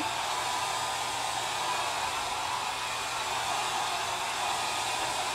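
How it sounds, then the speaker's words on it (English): A blow dryer on its low setting blows a steady, even rush of air while drying screen filler on a printing screen, running continuously and close by with no voices. "So we can take our blow dryer and add a little bit of air to this."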